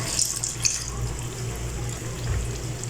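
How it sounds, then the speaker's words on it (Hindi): Water pours steadily and splashes into a cooking pot nearby, a continuous gurgling stream with no voices. "हम थोड़ा सा पानी इसमें डाल लेंगे"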